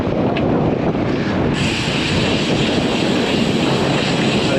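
Strong 22 mph wind with 33 mph gusts roars across a cyclist's microphone, a loud continuous rushing buffet that intensifies partway through.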